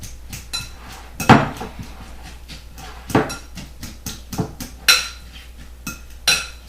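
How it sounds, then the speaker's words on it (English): Avocados mixed in a bowl for guacamole, with a utensil knocking sharply against the bowl several times at irregular intervals between softer scraping and mashing, close and clear over a low steady hum. "we gonna mix them avocados up"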